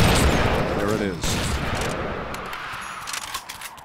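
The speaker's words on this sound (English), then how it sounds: "This is the part of Christmas where I shoot." Gunfire in the Family Guy video game: a loud burst of rapid shots at the start, then a rattling barrage fading over a few seconds under game noise.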